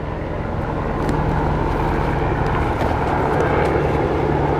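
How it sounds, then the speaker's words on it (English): A steady, broad mechanical drone of an aircraft overhead, continuous and fairly loud, with a low rumbling hum throughout and no voices. "this is a helicopter passing by."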